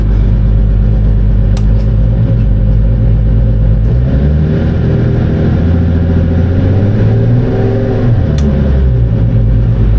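Car engine revved on a hand throttle in a re-powered Eleanor build with fly-by-wire controls, a loud close steady idle rising into sustained revs and settling back, with a second surge near the end.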